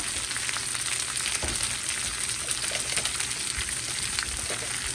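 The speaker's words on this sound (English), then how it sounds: "Y'all hear that sizzle?" Stewed squash sizzling in a hot pan at dinner prep, a steady dense crackle filling the whole stretch at close range, with small stirring knocks and no talking.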